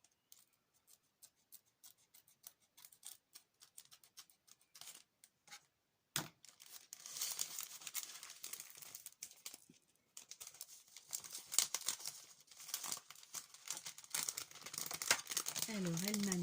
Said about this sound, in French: une paire de ciseaux plutôt